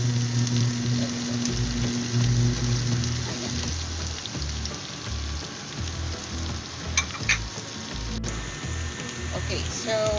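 Garlic sizzles and fries in butter in a pan, a steady bubbling crackle with occasional stirring scrapes while a voice talks over it.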